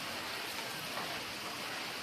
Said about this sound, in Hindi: झमाझम बारिश आ रही है ना, एकदम बहुत ही तेज आ रही है।